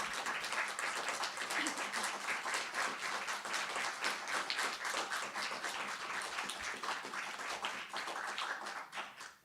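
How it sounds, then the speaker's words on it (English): A poetry-reading audience in an Annapolis conversation room breaks into sustained, dense applause, steady clapping filling the room for several seconds before tapering off at the end. "Let's give him the applause he deserves."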